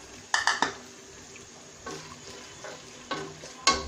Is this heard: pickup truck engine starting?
no